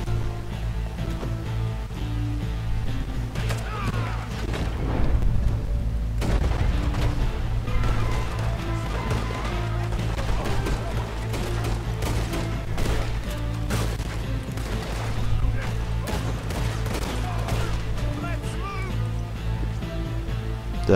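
Gunfire from the video game Red Dead Redemption 2 pops and booms repeatedly over a dense, steady layer of game sound, loud and close throughout.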